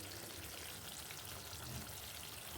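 Mutton vindaloo pieces fry in a wok and are stirred, giving a steady, close, dense sizzle with faint scraping that keeps going throughout without any talk.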